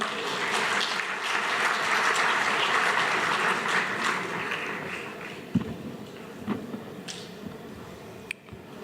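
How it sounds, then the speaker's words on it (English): A conference audience applauds to welcome a speaker to an education event, a full burst of clapping that gradually thins into a few scattered claps and noises. "Can we have a huge round of applause, people?"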